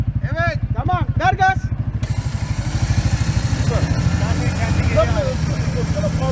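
A CFMoto ZForce 1000 Sport UTV engine idles and revs in seawater with a throbbing, pulsing rumble while people talk loudly over it at first, then the motor continues under quieter voices.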